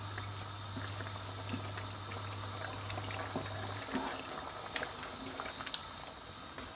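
A pot of shaljam gosht, meat with turnips, simmers steadily as its water is cooked off, giving a soft continuous bubbling with scattered small pops and a low hum at the start, no talking.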